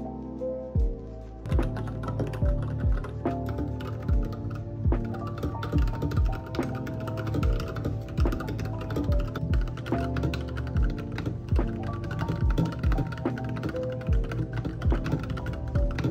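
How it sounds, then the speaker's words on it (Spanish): Fast, steady typing on a computer keyboard, with crisp key clicks and occasional heavier thumps, close by and uninterrupted for a long stretch. "puedo escuchar mi teclado y se me hace muy relajante"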